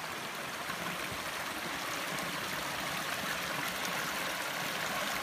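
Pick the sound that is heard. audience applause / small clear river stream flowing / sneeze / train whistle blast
small clear river stream flowing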